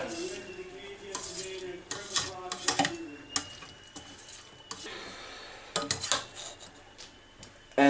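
A spoon stirs a pot of karahi mint chicken, producing irregular close metallic scrapes and clinks against the pan in clustered bursts, with quieter pauses between strokes and a faint simmering background.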